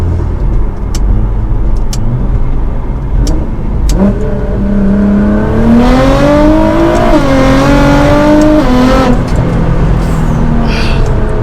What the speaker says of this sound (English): we played with the active exhaust